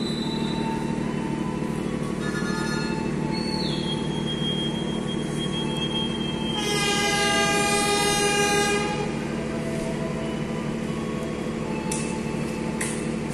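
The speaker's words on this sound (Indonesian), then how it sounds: "Saunggali diberangkatkan kembali tujuan Kuto Arjo." Passenger train on the Sancaka Utara service departing a station in Indonesia, with a steady loud rumble of wheels and engine throughout, a long horn blast around the middle and high wheel squeals at times.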